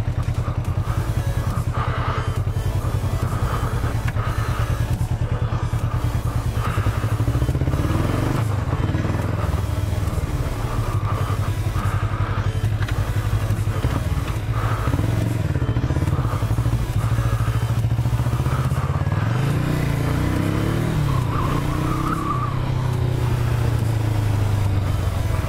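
Motorcycle riding on a licence exam track, engine droning steadily with repeated revving and accelerating surges, loud and close throughout with no talk.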